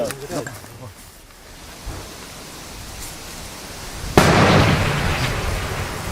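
A mortar fires at the front near Klishchiivka, a sudden heavy boom that rolls into a long rumbling wash of noise after a stretch of quieter ambience and shouted commands.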